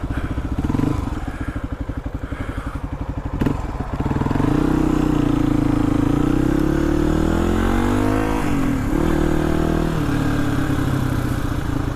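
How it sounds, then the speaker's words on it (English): A motorcycle engine idles with a fast, even putter, then revs up and settles into a steady riding drone with rising and falling pitch as the bike is taken to storage, close and loud. "Just taking the bike back into the storage"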